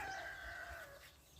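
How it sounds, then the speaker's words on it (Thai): Chickens on a rice-field farm in the early morning, a mother hen foraging with her chicks: a single drawn-out fowl call, close and clear over a quiet outdoor background. "ลูกไก่ออกมาแต่เช้า แม่ไก่ มาหาอาหารธรรมชาติเลยนี่"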